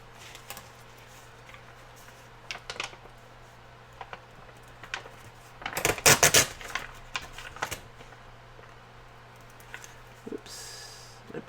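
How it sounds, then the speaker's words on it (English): Paper torn along the edge of a ruler while a calendar journal is made, giving a close burst of dry ripping and crackle in the middle, set among scattered light taps and paper handling with no talk. "And I'm going to tear this with my ruler."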